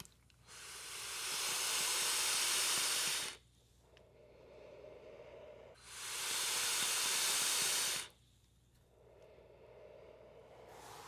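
Two long hissing draws on a Geek Vape Blitzen RTA vape with airflow wide open, coil at 0.156 ohms and 75 watts, each a few seconds of loud airy rush separated by quieter exhale.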